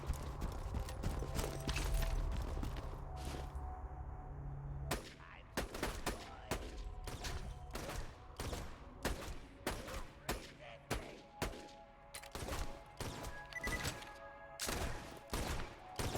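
Enemy gunfire in Borderlands 2 on hard mode, a steady stream of sharp, loud shots in quick bursts with brief gaps, heard over a dense game soundscape with occasional faint talk.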